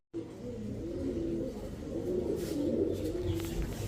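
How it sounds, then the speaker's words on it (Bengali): Coloured Giribaz high-flyer pigeons coo in a low, continuous, murmuring chorus close by, with no speech over them. "4 কালারের 4 জোড়া কালারিং গিরিবাজ কবুতর"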